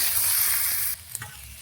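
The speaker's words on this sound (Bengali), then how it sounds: "আর একটু ভাজবো, তুলে নেব" Food fried with turmeric in a pan, a loud close sizzle that suddenly drops away, followed by a couple of soft stirring knocks.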